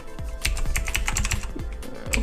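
Fast, close typing on a computer keyboard during a Splix.io game session, a continuous run of clattering key presses with a few louder thumps and no talking.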